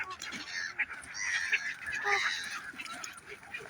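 Geese honk and other waterfowl call at a lake where many birds have gathered to feed, a busy, continuous chorus of overlapping calls at moderate distance, with faint voices nearby.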